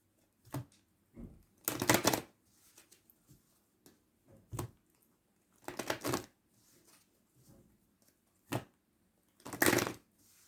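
Tarot cards shuffled in several separate bursts, each a quick riffling rustle of one to two seconds, with softer taps and card handling between them, close and clear with no voices.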